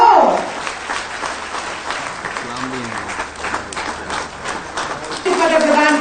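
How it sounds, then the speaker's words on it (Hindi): Ceremony crowd at a Jharkhand appointment-letter event claps, a thin scattered patter mostly under a man's amplified speech, swelling louder near the end. "तालियां जोरदार हो।"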